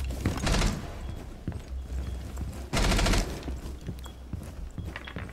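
Gunfire in Rainbow Six Siege, loud bursts of rapid shots in two main volleys with scattered single shots between, close and alone without talk.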